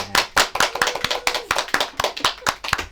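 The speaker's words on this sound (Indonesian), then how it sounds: "Tepuk tangan dulu. Tepuk tangan." A small group claps their hands in quick, uneven bursts, close and fairly loud, with no voices over it.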